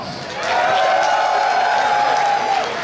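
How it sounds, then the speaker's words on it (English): An audience at a World AIDS Day fashion ball in Canada breaks into applause and cheering; it swells after a brief pause, then a sustained whoop rides over the crowd noise before easing off at the end. "these individuals deserve to have a round of applause"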